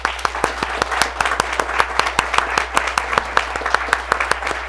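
An audience gives a round of applause at a gun violence prevention and reduction grant announcement, with steady, dense clapping from many hands that carries on evenly.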